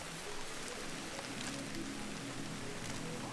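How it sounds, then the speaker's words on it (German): Steady rain in the video game Ancestors: The Humankind Odyssey, a dense continuous hiss of drops on surfaces, soft and even with no voices. "Wäre jetzt nur toll, wenn es aufhören würde zu regnen."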